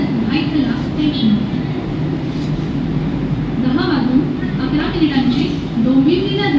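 Platform ambience at a Mumbai railway station, where a local train stands or moves nearby with a steady low rumble. Electronic tones and a public-address voice sit over the rumble.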